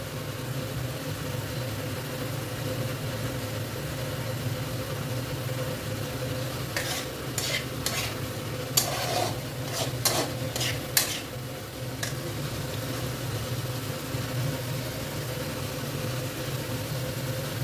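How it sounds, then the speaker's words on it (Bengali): A potato curry is stir-fried in a pan, a low steady sizzle with scraping stirs clustered in the middle, the spatula knocking against the pan a few times over a constant background hum. "তবে এটা কষতে হবে অনেকক্ষণ ধরে, কষতে কষতে আলু অর্ধেক সেদ্ধ হয়ে যাবে।"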